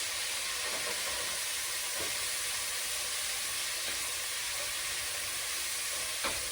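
Tablespoon of minced garlic hissing in a pot of chicken and rice soup, a steady close sizzle and steamy hiss with a few faint clicks and taps, no voices.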